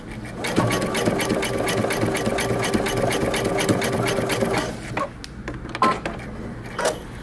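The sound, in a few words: sewing machine stitching narrow zigzag bar tacks on jeans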